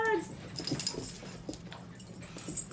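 Small dogs whimper and give high yips in a busy indoor scene, a thin whine first and then scattered short cries, partly mixed with human voices.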